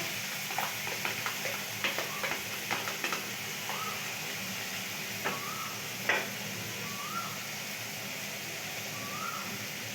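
Mustard paste is stirred into bata fish frying in a pan, with a soft continuous sizzle under scattered spoon taps and scraping clicks, a few short bird-like chirps also sounding faintly.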